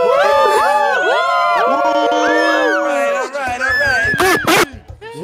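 In the GTA RP video game, a loud cluster of overlapping whooping, cheering voices sounds like a rowdy crowd, with yelps and a sharp burst of noise near the end.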